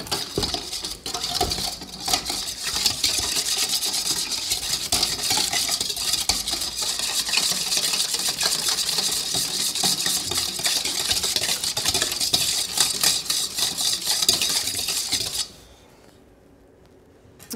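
A whisk beats a yeast and sugar mixture in a bowl with a rapid, steady metallic clatter and scraping, close and busy, stopping abruptly near the end.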